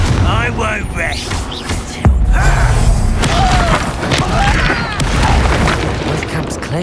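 Confringo fire spell blasts in the Hogwarts Legacy video game, loud booms and bursts mixed with clashing battle effects, with a sharp impact near the two-second mark, while voices shout over the fight.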